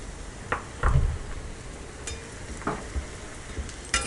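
Aval (flattened rice) and other mixture ingredients frying in hot oil, with faint sizzling broken by scattered clinks and taps of a utensil against the pan, no voices.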